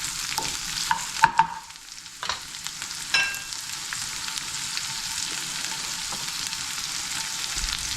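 Mushrooms, green peppers and onions frying in a pan, a steady close sizzle with a few sharp utensil scrapes and clanks near the start as the vegetables are stirred, then continuous hissing.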